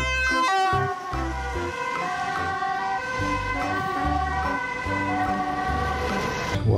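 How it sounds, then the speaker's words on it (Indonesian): A toy ambulance siren wails loudly and steadily, cycling through a repeating electronic two-tone pattern for several seconds. "di sini ada mobil ambulans"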